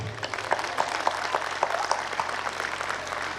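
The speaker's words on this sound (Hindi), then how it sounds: "हम सबको बहुत ज़्यादा तालियां बजानी चाहिए।" Audience applause for a team of young children after their performance at a school annual event, a scattered, moderate patter of clapping with several sharper individual claps standing out, continuing evenly without talk.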